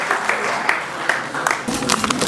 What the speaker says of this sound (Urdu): آپ کی پرزور تالیوں میں شاہد ظہیر سید صاحب۔